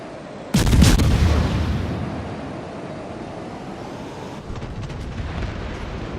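Heavy naval guns from battleships such as the Colorado, Bayern and Amagi boom in a video game battle, one big close blast followed by a long rumbling tail and a few fainter shots later.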